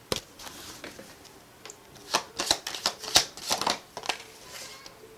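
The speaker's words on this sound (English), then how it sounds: "I'm going to pull one more tarot card for you guys." Tarot cards being shuffled by hand, a quiet run of soft papery riffles and flicks that come in clustered bursts, close to the listener and with no talking.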